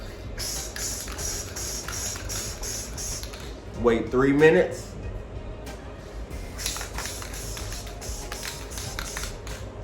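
Mouth-made hissing spray noises, a short burst of imitated aerosol paint can spraying while customizing sneakers, rising briefly in the middle between stretches of close talking.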